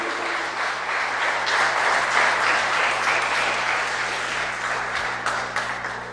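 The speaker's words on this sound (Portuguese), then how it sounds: "Então um forte aplauso ao Senhor." A large church congregation applauds continuously, a dense wash of clapping that holds steady for several seconds before slightly tapering.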